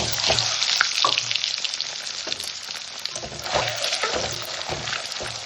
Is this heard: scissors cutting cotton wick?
no